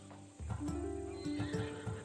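A Macedonian warhorse in Assassin's Creed Odyssey gives a loud, quavering neigh, with hooves clip-clopping and shifting around it, up close.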